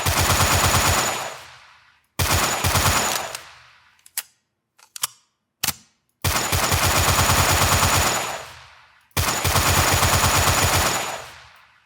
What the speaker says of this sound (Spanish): Ahora cuando dispare, pues en todo momento está disparando parado.